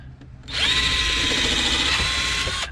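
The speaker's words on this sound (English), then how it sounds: "Drill our pilot hole real quick" A power drill whirs at high speed for about two seconds, drilling a pilot hole in wood for a sawhorse, loud and close, with a brief click before it starts and spins down at the end.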